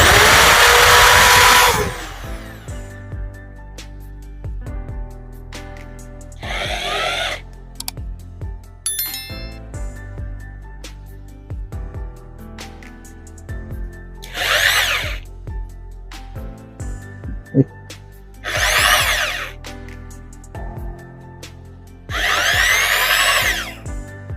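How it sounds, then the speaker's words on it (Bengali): An electric drill from a drill machine set spins at full speed anticlockwise in several separate bursts of high, whirring whine, with quieter stretches of faint handling noise between them. "এটা হচ্ছে অ্যান্টি ক্লক ওয়াইজ ঘুরছে এখন যা খুবই একটা ভালো দিক ফুল স্পিডে দেখতে পাচ্ছেন কি স্পিডে ঘুরে এটা"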